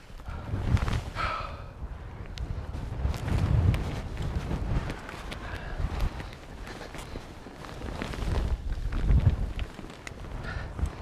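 Wind sweeps across the Beinn Dearg summit near Ullapool, 1,084 metres up, in wet cloud, buffeting the microphone with a gusty low rumble that swells and fades in waves, with no one talking.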